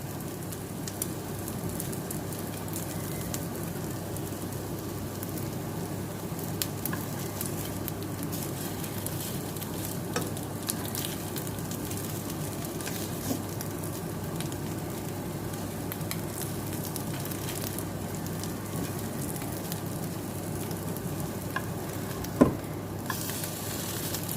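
Sticky rice (khao jee) frying in a pan on a modern stove, no charcoal, giving a steady, dense sizzle with faint crackles and occasional small pops throughout, with no talking.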